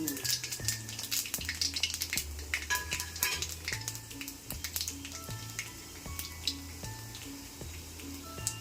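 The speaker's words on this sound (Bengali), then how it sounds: "এবার আমি কালো জিরাটা দিয়ে দিচ্ছি। কালো জিরাটা ফোড়ন হিসেবে দেওয়া হলো।" Nigella seeds hit hot oil for tempering and crackle and sizzle steadily, with quick pops and clicks and low rhythmic knocking sounds nearby. Faint voices may sit underneath.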